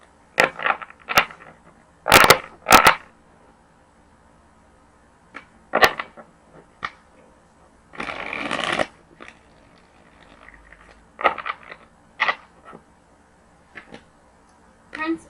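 Tarot cards are shuffled in short bursts of riffling and flicking, crisp close snaps and a longer rustle separated by quiet pauses, with no speech over them.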